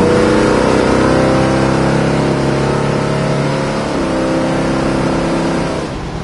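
A 1970 Plymouth Cuda engine runs loud and close, its steady rumble rising and holding in a rev before easing off near the end.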